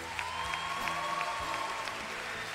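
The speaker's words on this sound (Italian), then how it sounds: "veramente un grande applauso a tutti quanti" Audience applause after a performance of a Madre Teresa musical inside the church of S. Alfonso in Francavilla al Mare, a steady, fairly soft wash of clapping from a distant crowd that fills the moment without a break.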